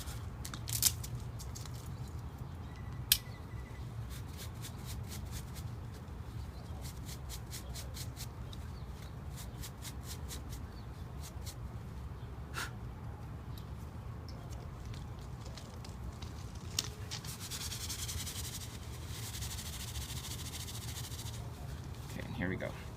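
Dry, scratchy rustling of steel wool fibers being pulled loose and rubbed between hands, with soft crackly texture and a few small clicks, close and fairly quiet throughout.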